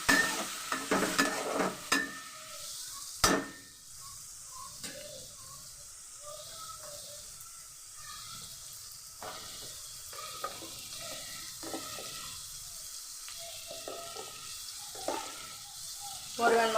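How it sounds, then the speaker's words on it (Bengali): Chopped onion and tomato fry in a pan with a low sizzle, punctuated by scattered clinks and scrapes of stirring, loudest at the start and end, close by. "এখন আমি পেঁয়াজ কুচি দিয়ে নিচ্ছি। টমেটো কুচি দিয়েছি।"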